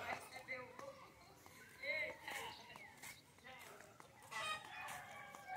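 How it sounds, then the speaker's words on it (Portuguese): Chickens clucking and a rooster crowing out on a residential street, several birds calling on and off at moderate distance while a person talks over them. "A minha rua. Tem galinhas."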